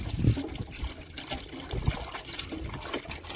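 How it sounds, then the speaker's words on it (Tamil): Sea water splashing and trickling as meat is washed in it, close and uneven, with a few louder splashes and no talk. "கடல் தண்ணியிலே கழுவுறோம்."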